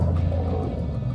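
Wild lions fighting in the bush give a loud, deep roaring growl that fills the whole brief moment, close and continuous.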